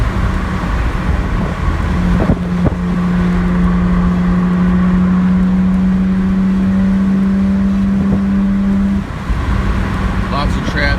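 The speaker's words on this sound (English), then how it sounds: "Lots of traffic as usual." Road traffic heard from inside a BMW 135i, a steady loud road and engine drone with a sustained hum building and fading, a couple of thumps, and talk inside the car.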